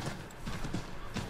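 Horse hooves clip-clopping in the video game Assassin's Creed 3, a steady rhythmic trot of several soft strikes at close range over faint game ambience.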